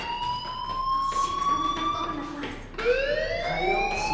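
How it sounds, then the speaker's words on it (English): A school fire alarm in the video game Life is Strange sounds as a steady, insistent electronic tone with rising pitch sweeps, holding at moderate loudness while a voice talks over it. "do you hear that fire alarm? That means you should be outside."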